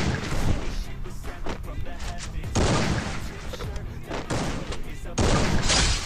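Gunfire in the battle royale game Garena Free Fire: loud bursts of rapid automatic fire come in several waves, with a player talking between them.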